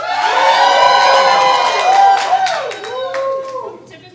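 An audience at a burlesque revue in a small gallery venue bursts into loud cheering, whoops and clapping, a dense crowd roar that fades gradually toward the end.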